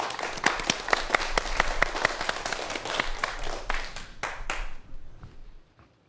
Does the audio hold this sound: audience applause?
yes